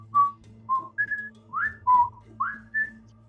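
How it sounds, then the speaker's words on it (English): A person whistles a sequence of seven short, distinct pitched notes that rise and fall like speech syllables, used to communicate words, heard clearly over a faint low hum. "they were able to communicate words and concepts by whistling to each other"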